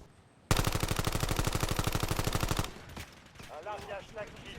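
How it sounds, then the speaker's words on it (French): Submachine gun fire from the video game Warzone Black Ops 7: one loud, continuous rapid-fire burst of about two seconds, followed by fainter game sounds and a few scattered clicks and impacts. "c'est une mitraillette, a beaucoup de recul"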